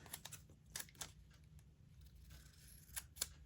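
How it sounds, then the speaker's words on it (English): Several quick, crisp snips close by, clustered at the start and again near the end, with a faint steady hum underneath. "Use my scissors."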